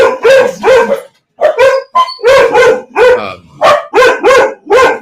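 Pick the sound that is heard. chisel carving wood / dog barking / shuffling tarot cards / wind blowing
dog barking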